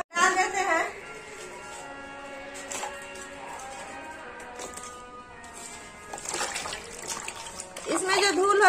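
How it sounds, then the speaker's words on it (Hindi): Okra placed in a bowl of water to soak before cooking, with splashing and pouring at the start and end and a quieter trickle between, while someone talks over it. "हम भिंडी को सबसे पहले पानी में भिगो कर 2 मिनट के लिए छोड़ देते हैं"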